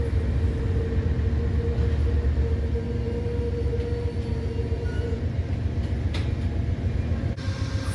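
Train hauled by a Dash 8 locomotive rolling by on a Brightline run between West Palm Beach and Miami, a continuous loud low rumble with wheel-on-rail roar and faint squeals, steady and close for the whole stretch.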